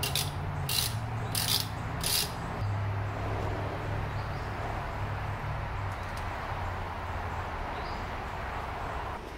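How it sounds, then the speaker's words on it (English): A ratchet spins off loose 10 millimeter bolts on a BMW Z3 with an M54 engine, giving a few quick clicking bursts near the start over a steady, buzzing outdoor background. "Assuming these are 10 millimeter as well. And they are. Those are not that tight at all."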